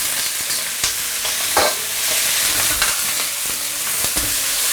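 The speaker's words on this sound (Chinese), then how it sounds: "最大火快速去翻炒它" Blanched vegetables are tossed in a wok over maximum heat after ginger slices and scallion pieces have been fried in oil. Loud, close sizzling comes with repeated scraping and clanking stir strokes in a busy rhythm.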